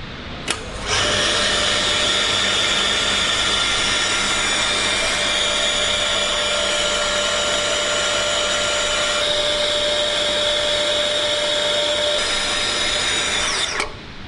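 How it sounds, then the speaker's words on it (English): A METALEX 65A pipe bending machine pulls a pipe around to 180 degrees with a loud, steady mechanical roar and a constant high whine. It starts abruptly and runs unbroken for about thirteen seconds before cutting off. "now this pipe will be pulled around to 180 degrees as shown there"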